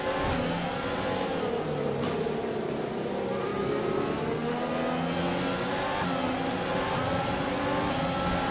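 A Haas Formula 1 car in the racing game F1 2020 at the British Grand Prix, its high-pitched engine note dropping and rising under braking, loud and continuous with no talk.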